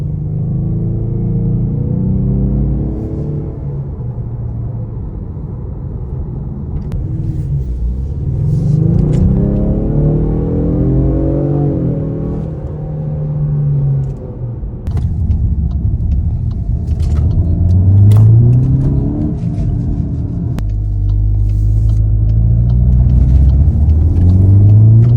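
Ford 2.3 EcoBoost engine running close by with a steady low rumble, swelling and falling through several rev rises over about twenty-five seconds, with no talking.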